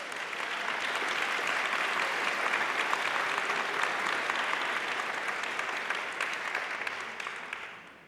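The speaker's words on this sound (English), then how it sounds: "Give another round of applause for Kia." An audience claps steadily and loudly for several seconds at a community event, the applause fading slightly near the end.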